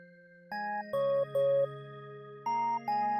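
In an R&B beat, a synth and a lead pattern play together as clean electronic tones over a held low note. Short chime-like chords come in bursts, separated by brief gaps. The sound is soft, with no voices.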